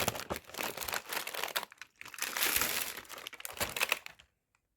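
A food wrapper on a Jordanian street snack is crinkled and torn open one-handed, with bursts of close, loud plastic crackling that stop abruptly near the end.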